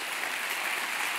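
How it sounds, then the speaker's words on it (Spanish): A conference audience at a closing session applauds the event organizers, with brief, even, fairly soft clapping that continues throughout. "Un aplauso para ellos, por favor."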